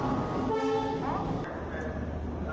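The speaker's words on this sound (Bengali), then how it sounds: "আমার ট্রেন সঠিক সময় হাওড়া থেকে ছেড়ে দিল।" The Shipra Express train departs Howrah station, with a steady rumble of rolling rail cars and a drawn-out horn tone rising over the noise, alongside faint voices.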